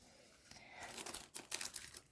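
A small plastic bag crinkles and crunches as it is handled during jewelry making, with quiet, close, irregular bursts of rustling.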